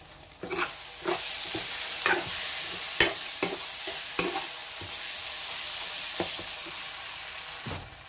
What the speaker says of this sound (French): Voilà, ça fait 1 minute que ça rissole un peu.